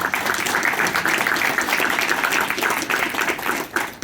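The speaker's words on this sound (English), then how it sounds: "I think we should give them a round of applause for the way they conducted themselves." An audience at a Bloomington mayoral candidate forum applauds the candidates, a steady dense wash of clapping that holds for several seconds before thinning toward the end.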